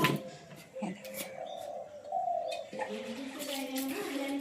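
Doves coo among other birds gathering at a spot where biscuits are put out, several soft repeated calls with chirps mixed in, moderately close over light background noise.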